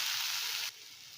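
Cowpea dal crackles and sizzles in an iron pan as it is stirred, a loud, close hiss that drops sharply partway through to a softer simmer. No one speaks.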